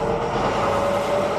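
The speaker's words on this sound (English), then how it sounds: "I don't want the chain spinning very fast to begin with." Chain of a cheap spreader truck turning slowly, a steady close mechanical grinding rattle with a constant whine running through it, continuous and unbroken, no voices.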